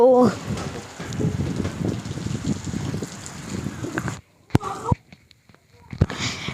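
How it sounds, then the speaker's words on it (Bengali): Heavy rain pours steadily after a spell of intense heat in Tangail, a dense close hiss that drops off abruptly partway through, followed by a few sharp bursts of sound and brief noise near the end. "বৃষ্টি হচ্ছে অনেক জোরে"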